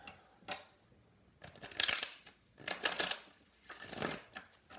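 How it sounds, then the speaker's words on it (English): Tarot cards shuffled by hand, with several quick riffling bursts separated by short pauses, close and fairly soft, with no talking. "I've shuffled these like crazy"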